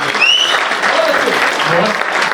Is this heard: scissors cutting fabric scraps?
no